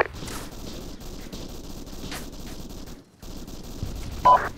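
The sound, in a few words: machine gun fire in Arma 3 video game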